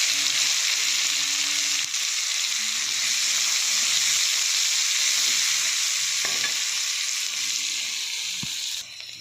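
Chopped onions frying in hot oil in a pan with prawns, black cumin and dried chillies, a steady loud sizzle running throughout with a few stirring clatters near the end.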